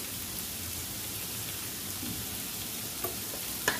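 Masala, red chilli powder and turmeric sizzle gently in a pan with steady soft frying hiss, a faint scrape near the end, quiet and close with no talking.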